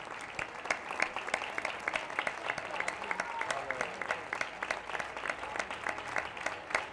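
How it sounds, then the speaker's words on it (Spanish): Audience applause for a performer couple at an evening show in Marbella, with steady, moderately distant clapping from a crowd and sharp individual claps standing out throughout. "que pide un aplauso para ella y para su marido."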